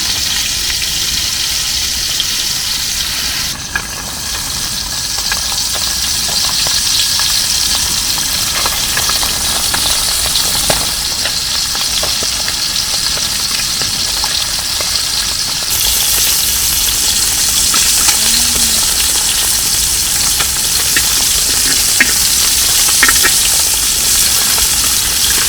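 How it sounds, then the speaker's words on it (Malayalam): A single masala-coated karimeen (pearl spot) fish fries in oil in a small uruli, Kerala style, producing a loud, close, continuous sizzle and crackle over a low steady hum, with no voices. "മസാല തേച്ച് വെച്ച നമ്മുടെ കരിമീൻ മഴ അതിലേക്ക് ഇട്ട് കൊടുക്കും."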